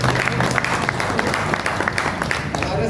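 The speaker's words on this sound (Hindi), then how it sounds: "जोरदार तालियों से" Enthusiastic applause from an audience at a Marathwada auto-rickshaw union inauguration, steady dense clapping filling the whole stretch with a little crowd noise.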